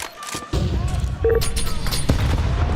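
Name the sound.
grenades exploding in Counter-Strike video game match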